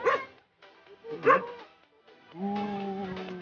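A few dog barks and yips, fairly close, in short bursts with pauses, ending in a longer whining, whimpering sound.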